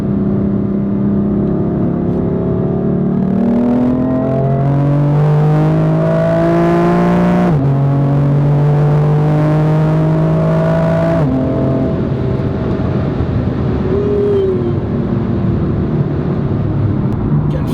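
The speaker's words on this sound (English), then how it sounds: "Feel the power, guys. 192 kilometers, it's nothing for the M4." A BMW M4 LCI Competition in third gear pulls hard, its engine note climbing steadily through each gear before a shift drops it back. The loud, close roar continues with no talk.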